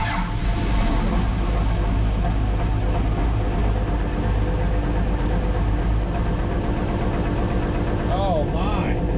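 A 1000HP Cummins diesel engine runs loud and close with a steady heavy rumble and clatter, and a voice speaks over it near the end.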